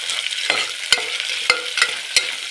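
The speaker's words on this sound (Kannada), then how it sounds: "ಫ್ರೈ ಆಗ್ತಾ ಇದೆ." Onions fry in a pan for methi pulao, a loud close hiss of sizzling oil punctuated by four or five sharp scrapes of a stirring spoon at an irregular pace.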